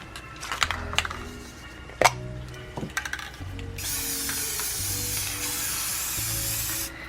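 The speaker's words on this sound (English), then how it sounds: "I'm going to spray paint the whole thing." After some clicking and rattling handling noises, a can of Rust-Oleum Painter's Touch satin spray paint sprays in one long continuous hiss lasting several seconds, close and steady.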